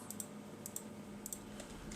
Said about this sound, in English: When I say that, I mean number 8 on the keyboard.